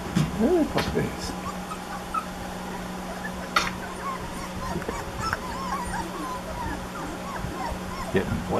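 Young puppies whimpering and giving thin yips, several high cries near the start and scattered through, with someone talking to them over the top.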